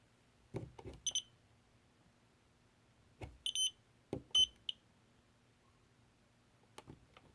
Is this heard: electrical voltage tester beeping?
yes